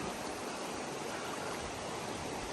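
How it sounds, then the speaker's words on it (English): A waterfall near a lake's east arm, heard as a dense, constant roar of rushing water, loud and unbroken throughout with no voices. "this is a waterfall, but it's not the waterfall we're going to"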